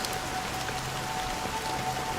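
Steady rain falling in the video game Honkai Star Rail, a soft continuous patter with a faint low hum underneath, no speech.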